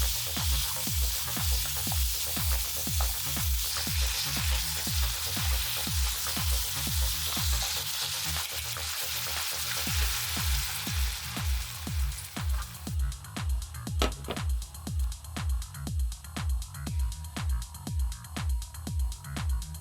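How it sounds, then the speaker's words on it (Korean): Steady, loud sizzling of small octopus stir-frying over high heat in a hot pan, with a regular scraping rhythm of stirring throughout and no talking. "낙지를 넣고 센 불에 빠르게 볶아줍니다"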